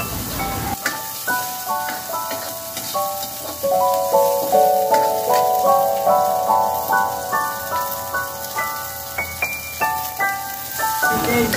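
Garlic sizzles in a little hot oil with a steady crackling hiss, heard up close under a gentle melodic music track as it is stirred.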